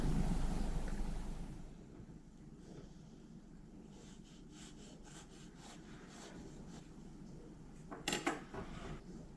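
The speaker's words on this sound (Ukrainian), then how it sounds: "Розрізаю пиріг на два коржа." A knife saws steadily back and forth through a soft walnut cake, slicing it into two layers, close and quiet, with faint scraping strokes and a brief clatter near the end.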